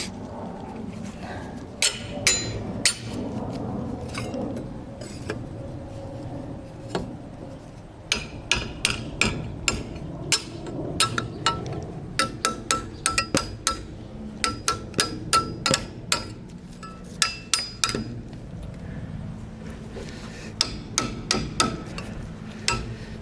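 Nails being hammered into Simpson metal header hangers while framing walls: repeated sharp hammer blows in quick bursts with bright metallic rings, close and loud, with short pauses between runs of strikes.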